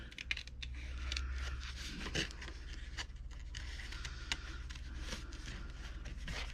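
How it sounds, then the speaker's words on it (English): Scissors trim paper on a handmade journal, making close, faint snips and rustling scrapes in an uneven rhythm over a low background hum, with no talking. "Let's just trim it."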